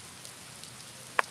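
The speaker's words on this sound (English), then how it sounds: "It's a rainy uh, evening in Alexandria." Rain falling on a street in Alexandria on a wet evening, a steady soft hiss of drizzle with one sharp nearby drip or tap near the end and no voices.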